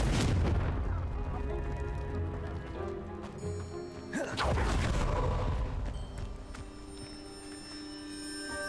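Confringo fire spell blasting in Hogwarts Legacy, a loud booming explosion with a second burst midway, rumbling low and sustained under continuous game effects and music.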